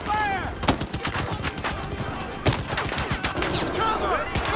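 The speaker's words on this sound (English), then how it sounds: "machine gun! Incoming fire!" Machine gun fire in the Battlefield 4 shooter, sustained bursts of sharp cracks and rattling shots layered over a loud battlefield din, with whistling and shouted voices mixed in.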